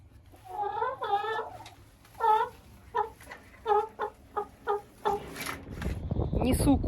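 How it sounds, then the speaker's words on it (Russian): Hens being carried by hand to the coop cluck in a quick series of short, rising calls. Rustling and handling noise builds toward the end. "Несу курочек в курятник"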